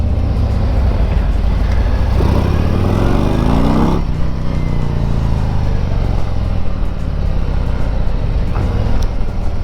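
A 2021 Harley-Davidson CVO Road Glide motorcycle on a test ride, its engine rumbling loud and steady throughout with heavy wind noise. Partway through, the rising and falling pitch of a gear change comes through as the bike accelerates.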